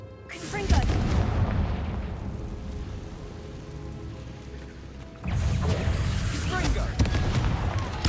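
Confringo blasting spells fired in the Hogwarts Legacy video game, with loud booming bursts around 0.8 s and again from about 5.3 s, heavy rumbling low end, and game audio continuing between the blasts.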